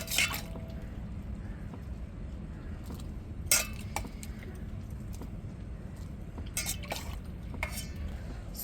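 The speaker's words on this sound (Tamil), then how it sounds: "சோயா பீஸு இப்போ இன்னொரு தண்ணியிலே போட்டு நம்ம நல்லா புளிஞ்சு எடுத்துக்கிடுவோம்" Soaked soya chunks squeezed by hand in a bowl of water, with soft wet squishes, drips and occasional clinks of the bowl, quiet and close.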